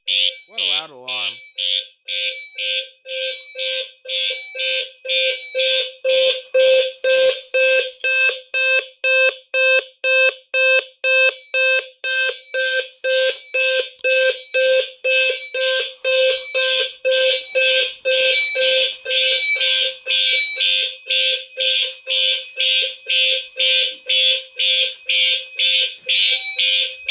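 A loud, continuous alarm blares from a new alarm system under test, pulsing rapidly in even beeps close to the microphone and sustained at full volume throughout.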